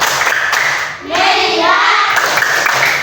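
A grade 6 classroom joins in a rhythmic "tepuk fokus" clap game, with quick bursts of group hand clapping near and loud, mixed with children's voices chanting along.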